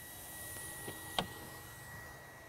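A robotic hot-air welder runs along a PVC roofing seam, giving a quiet, steady blower whir and hiss with a single sharp click partway through.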